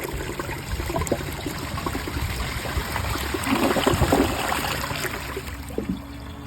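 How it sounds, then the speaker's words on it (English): A 2005 Crane toilet flushes, giving a steady rush and trickle of water that swells slightly toward the middle and runs for several seconds, fairly close, with no voices. "and now I'm gonna give it another flush"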